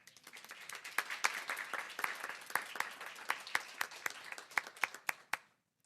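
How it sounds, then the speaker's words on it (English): Audience at a school governing board meeting applauds its principals, a moderate crowd clapping steadily with sharp individual claps standing out toward the end before it stops abruptly. "let's give our principals a big round of applause"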